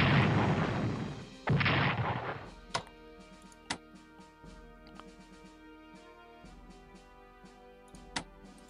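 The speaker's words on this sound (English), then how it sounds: "Maybe we should bombard this." Artillery bombardment in the WWII strategy game Strategic Command: a loud burst of shelling in the opening seconds, then a series of sharp, isolated booms spaced out over a quiet game backdrop, with no talk.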